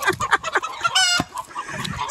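Chickens cluck in short, busy bursts nearby, with one longer, louder crowing call cutting through the middle of the flock noise, with geese close by.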